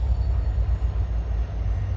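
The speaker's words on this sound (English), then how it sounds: "And oh, here come a train. With all that noise, you see it?" Low, steady rumble of a train rolling past at a distance near a park in Atlanta, a continuous muffled roar with faint rhythmic thumps and no talking.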